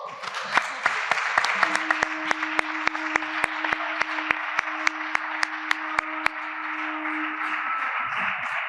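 At a cannabis culture panel event, the audience gives a round of applause. Sharp, regularly spaced claps ring out over a dense clapping wash, with a sustained tone running underneath, until the applause fades near the end.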